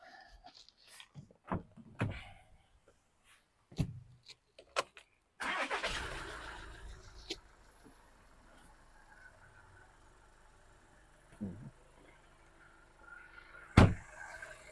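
A few clicks and a door thud, then a 2016 Skoda engine cranks and catches after a cambelt change, settling into a steady idle with occasional knocks.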